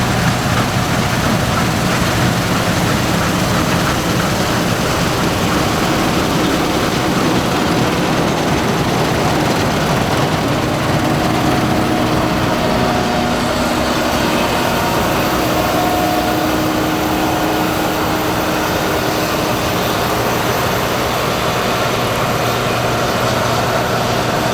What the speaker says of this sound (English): We're combining away, making a good dent in this field now.